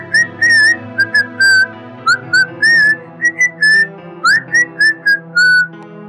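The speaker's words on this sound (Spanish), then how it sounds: "Deciden pasar por una última casa cuando escuchan un silbido." Short melodic whistled phrases come one after another over soft background music, a lone whistle drifting near a house on Halloween night.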